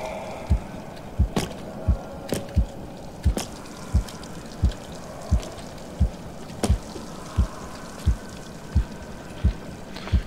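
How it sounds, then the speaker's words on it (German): A heartbeat thumps steadily in Medusa's Labyrinth, about one deep beat every half second, loud and close, with faint dripping ambience in the background. "Wieso geht mein Herzschlag so hoch?"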